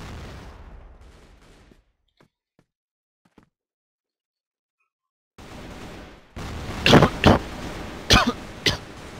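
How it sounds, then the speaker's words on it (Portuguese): A person coughing during a CrossFire online shooter session: faint game noise fades to near silence, then several loud, sharp coughs burst out in a cluster close to the microphone. "Essa tosse atrapalha"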